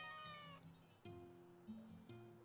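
Pet cats in the farming video game Story of Seasons meow in a quick series of short, tonal calls, several overlapping, clear and close over a faint game background with no talking.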